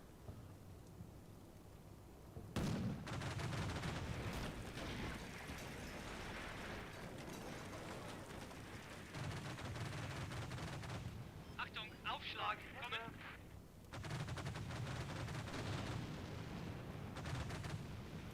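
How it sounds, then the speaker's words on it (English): Artillery fire in the Combat Mission war game: a sudden heavy boom followed by continuous rumbling barrages and crackling impacts. The firing goes on loud and steady, with brief lulls, and someone talks over it. "I can hear the artillery start firing"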